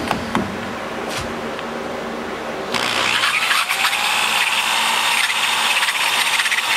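A power tool starts up and runs steadily, trimming the port of an aluminum ProComp 190cc cylinder head; a low hum comes first, then a loud, continuous high whine holds for the rest of the clip.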